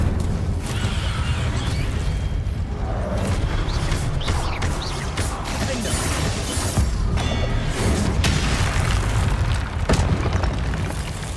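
The Incendio fire spell is cast in Hogwarts Legacy, a loud whooshing burst of flame with booming, crackling game effects over a dense background of music and sound.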